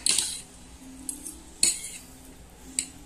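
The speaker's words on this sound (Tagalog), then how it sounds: "Hahalo ko na po yung noodles." Metal cutlery stirs noodles in a bowl, giving several bright clinks and scrapes at irregular moments over a low, steady background hiss.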